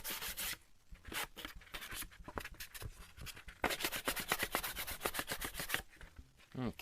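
Rapid, scratchy back-and-forth rubbing of sandpaper on a hard painted surface, steady and close, with short pauses between bursts of strokes.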